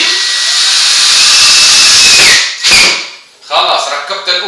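A power drill drives a 30 mm screw into a wooden furniture part to fix a handle, a loud steady whir for over two seconds, then a brief stop and another short burst.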